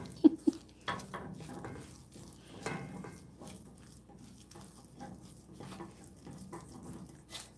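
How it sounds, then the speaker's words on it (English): Cornbread batter being stirred and mixed in a bowl on a home stovetop, giving soft scraping and clinking kitchen sounds with a couple of sharper knocks near the start, fairly quiet and close, with no talking. "We'll just go ahead and start mixing this up."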